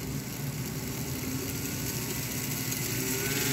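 An American Flyer Alco diesel model train engine from 1950 runs steadily and revs up in a continuous, close, even drone with no talking.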